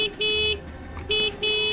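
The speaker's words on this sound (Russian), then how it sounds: "Можно левой кнопкой мыши тоже" Train horn in the Hello Neighbor Old Style mod game, sounding three loud blasts in a row, the first two long and the last short, over a low rumbling background.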